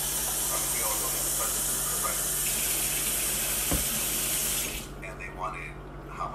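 Tap water runs steadily in a loud, hissing, continuous stream into a sink and cuts off abruptly near the end, leaving a quieter room; voices come through faintly beneath the rush.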